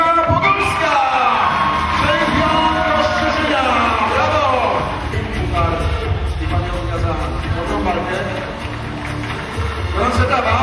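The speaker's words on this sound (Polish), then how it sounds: "Gorące brawa" A crowd at a Polish summer event whoops, yells and cheers loudly and steadily for the winner of a unanimous points decision in a bout of three two-minute rounds, with applause and shouting carrying through the whole stretch.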